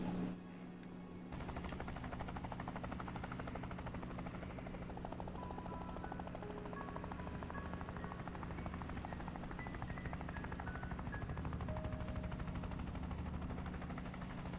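A helicopter in the game Craftopia runs as a steady, continuous rotor drone for most of the stretch, loud and close, with scattered small game effects layered over it and no talk.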